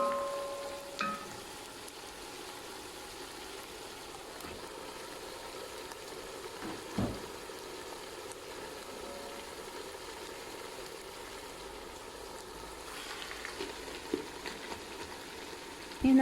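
Chicken halves fry in a pot for Saudi chicken kabsa, giving a low steady sizzle with a few soft knocks and scrapes of turning, heard alone without talk.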